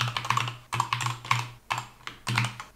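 Computer keyboard typing a virtual machine name in the Proxmox interface: five quick bursts of close, crisp keystrokes separated by short pauses, with no voices.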